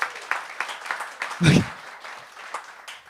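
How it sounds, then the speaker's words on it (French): Scattered applause from a comedy show audience, a few sparse claps with one brief louder burst in the middle, under a comedian speaking French. "Premier applaudissement de la soirée."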